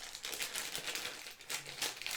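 Cards for The Colonists board game crinkle and rustle as they are pulled out of a plastic bag, a continuous close crackling with uneven bursts and no talking.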